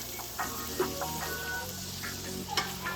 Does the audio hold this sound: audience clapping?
no